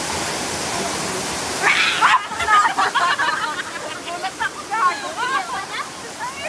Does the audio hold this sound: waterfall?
yes